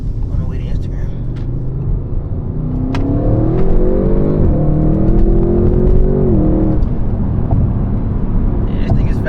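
An Audi RS6 accelerating hard on the road, its engine note climbing through the gears in a loud, close rising whine, with voices talking over it.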